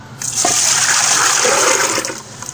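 Soaking water is poured from a vessel into a pressure cooker, a loud close splashing gush lasting about two seconds before it tapers to a trickle.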